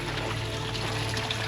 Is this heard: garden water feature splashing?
yes